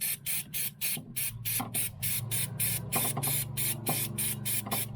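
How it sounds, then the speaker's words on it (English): Brake cleaner sprayed from an aerosol can onto a car's fuel pump, heard as a rapid series of short, loud, close hissing bursts over a low mechanical drone. "I'm going to put some brake cleaner on that."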